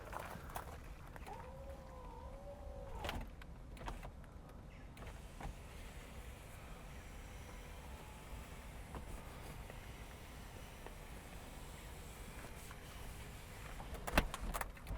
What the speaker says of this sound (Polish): I teraz w tym momencie już możemy w pełni stuprocentowo zamknąć ten dach.